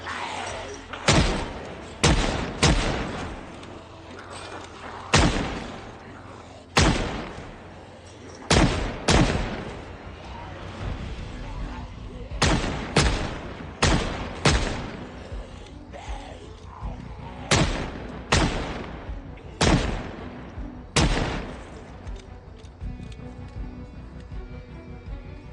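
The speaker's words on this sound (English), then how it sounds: "I'm going to use the revolver on these guys." Revolver gunshots in Project Zomboid, about twenty loud, sharp blasts fired one at a time at an uneven pace over a low ambient bed. Short pauses and quick pairs of shots break up the firing.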